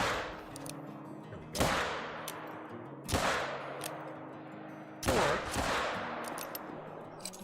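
A .454 Rhino revolver fires and is reloaded in Call of the Wild, with three sharp, loud gunshots spaced about one and a half to two seconds apart, each ringing out with a long decaying echo over faint mechanical handling noises.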